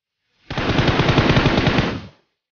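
Shotgun gunfire in the mobile battle-royale game PUBG Mobile during a competitive scrim match: a loud, dense burst of rapid repeated blasts lasting under two seconds, close and dominant, with no talk over it.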